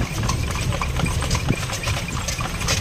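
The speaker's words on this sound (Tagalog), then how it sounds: "sakay kami sa kabayo, sa kalesa" Steady clip-clop of a horse's hooves pulling a kalesa carriage through the streets of Vigan, a continuous rhythmic patter under street noise, with no talking.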